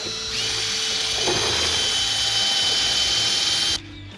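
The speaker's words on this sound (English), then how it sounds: "Chuck it in your drill. Give her a mix." A power drill with a paint mixer attachment whirs steadily at high pitch for several seconds, mixing fertiliser, then cuts off abruptly; no one speaks.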